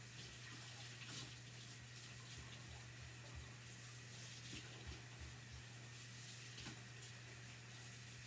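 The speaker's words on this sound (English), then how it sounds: "I'm just going to wash this transfer" Steady running tap water rinsing a chalk transfer stencil, a constant hiss and splash at moderate level with a low hum beneath, no voices.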